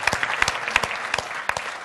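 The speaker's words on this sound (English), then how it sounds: "just give yourself a clap" Workshop participants clapping for themselves at the end of a morning session, a short burst of scattered claps from a small group, close and distinct.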